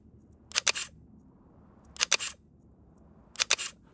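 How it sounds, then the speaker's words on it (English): A Hasselblad XPAN film camera with its 45mm or 90mm lens fires its shutter three times, each a quick double-click mechanical release with a short winding whir after it, close and crisp in a quiet room. "people do like to fire the shutter on this camera because it sounds like"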